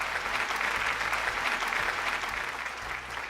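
Studio audience on a Malayalam TV game show breaks into strong, sustained clapping after a contestant wins a prize, a loud continuous patter with a faint low music bed underneath.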